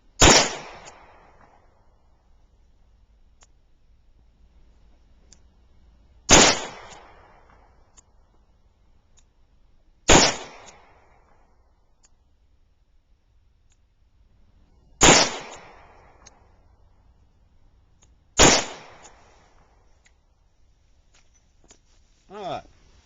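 Five loud, sharp handgun shots fired at a target while testing Crimson Trace laser grips, spaced several seconds apart, each ringing out and decaying into quiet.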